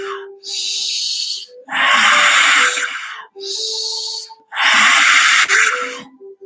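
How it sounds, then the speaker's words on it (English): Deep breathing shown close up: four long, loud breaths alternate in turn, sharp airy inhales with slower exhales, each lasting about a second and separated by brief pauses. "get up in the morning, take a deep breath."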